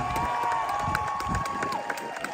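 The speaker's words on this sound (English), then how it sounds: "give a huge round of applause to all of the speakers who came before" An audience claps and cheers for speakers at an event, a dense burst of applause with scattered shouts, fairly close and lively throughout.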